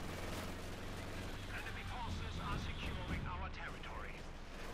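Constant distant gunfire and battle noise from a Company of Heroes 2 match, a dense steady clatter with no distinct single shots standing out.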